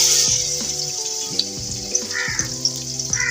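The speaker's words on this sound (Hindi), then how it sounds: "तेल गरम हो चुका है। अब मैं इसमें डालूंगी अदरक लहसुन का पेस्ट" Ginger garlic paste dropped into hot oil in a pan, a steady bright sizzle with a few small pops and low clattering of a utensil against the pot, close and fairly loud, no voices.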